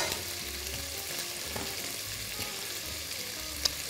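Bread pieces frying in oil in a pan for Castilian soup, a constant soft sizzle and crackle with a faint stir and a small clink near the end, no talk.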